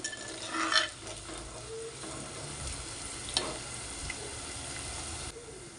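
Thinly sliced onions fry toward golden in a pot for an egg curry, a quiet, continuous sizzle with an occasional utensil scrape and clink.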